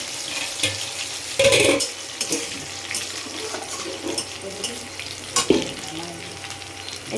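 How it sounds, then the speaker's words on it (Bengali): Onions fry in a pan in a home kitchen, giving a low, soft sizzle with scattered clinks and stirring noises throughout. "এখানে আমার প্রথমে পেঁয়াজ ভাজছিল"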